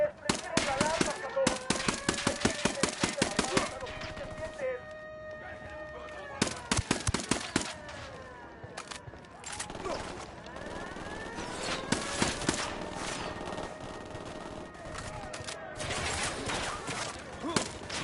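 Gunfire in the Wildlands video game: rapid automatic bursts and single shots crack loudly in clusters, with pauses between, while voices talk over the fighting.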